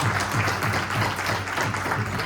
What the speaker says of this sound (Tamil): நான் கூறவே இல்லை, பலத்த கரகோஷம் வந்துவிட்டது.